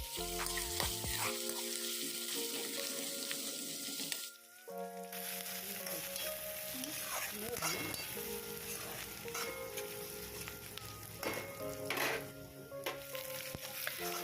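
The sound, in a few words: chopped onions frying in a pan for masala potatoes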